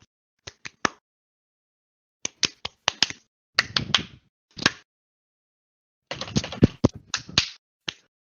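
Two people run through an elaborate handshake: quick bursts of crisp hand slaps, claps and finger snaps in clustered rhythmic runs separated by short pauses, close and sharp with no talking over them.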